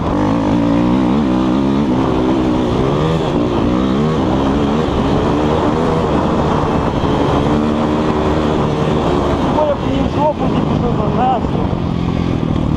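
A KOVI Advance 250 enduro motorcycle ridden off-road in second gear gives a loud, steady engine drone that rises and falls slightly. A rider talks over it throughout.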